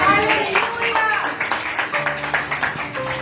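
A church congregation claps in steady rhythmic unison during a sermon, sharp repeated hand claps under a preacher's voice, close and lively.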